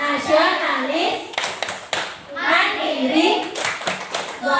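Class of pupils performing the tepuk PPK clap chant: loud, crisp clusters of hand claps punctuate the group's rhythmic chanting, recurring twice in quick succession.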